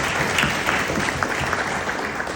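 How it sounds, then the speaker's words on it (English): Applause from an audience at a tourism event, a continuous, dense wash of clapping heard close and steady throughout, with no talk. "I would like to everyone to give you an applause."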